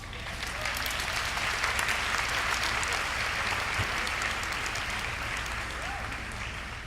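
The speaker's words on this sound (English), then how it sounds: "please give your parents and all of the other people who have supported you a round of applause" A large graduation audience applauds in a sustained, even roar of clapping that holds steady throughout, with a faint crowd murmur beneath it.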